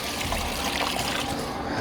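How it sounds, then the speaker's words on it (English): Dirt bike foam air filter being dunked and squeezed in a basin of soapy water, giving a steady close trickling and dribbling wash with soft splashes throughout, no talking. "You're just gonna dunk it in there, keep squeezing it out."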